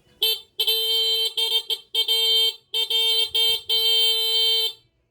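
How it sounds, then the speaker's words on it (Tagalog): Motorcycle horn sounding after a new wiring harness install, a series of loud, close honks in short and longer bursts with brief gaps between them. "Lumakas pa yung busina."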